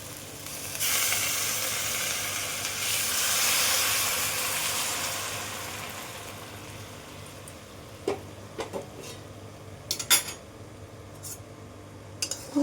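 Hot water poured into a pan of Bengali-style okra curry sets off a loud steamy sizzle and hiss that slowly fades, followed by a few light clinks of a utensil against the pan.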